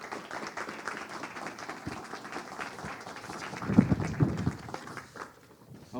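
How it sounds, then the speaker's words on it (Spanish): An audience applauds Dr. Federico Prieto at a university book presentation, a dense patter of clapping that swells toward the middle and then fades, with a brief murmur of voices. "Un aplauso, por favor, para el doctor Federico Prieto"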